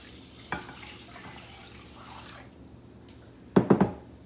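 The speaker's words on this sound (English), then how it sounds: "I'm gonna add 4 cups of water" Water being poured into a pot of two cups of rice for red beans and rice, a quiet running trickle with a few sharper splashes and clinks near the end.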